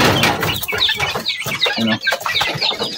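Month-old chicks kept as pets, a lively flock chirping and clucking in quick, overlapping bursts, close and loud, with some soft fluttering among them.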